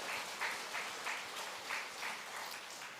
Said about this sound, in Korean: 우리 하나님께 영광의 박수로 찬양 올리겠습니다